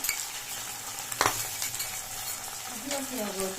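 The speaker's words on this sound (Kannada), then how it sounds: "ಚೆನ್ನಾಗಿ ಫ್ರೈ ಮಾಡಿ" Egg kheema masala fries in a pan with a steady, close sizzle and occasional stirring scrapes, one sharper clink early on, and a faint rising whistle-like tone toward the end.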